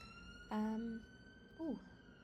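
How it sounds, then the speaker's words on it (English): A faint, distant police siren outside, heard from indoors, gives two brief wailing tones, the second bending in pitch, over quiet background noise. "There's a siren outside."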